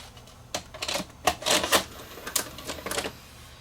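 A 36-year-old JVC HRD756 VHS VCR with an erratic, tape-eating fault loads a cassette, giving a series of close mechanical clicks, clacks and whirring bursts at irregular intervals, with no talking.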